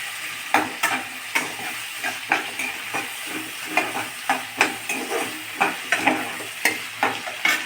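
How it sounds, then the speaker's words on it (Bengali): Jackfruit curry fries with a steady sizzle in a pan while a spoon scrapes and stirs it in regular strokes, close and clear with no voices. "তারপরে এইটাকে একটু লাল করে ভাজবো।"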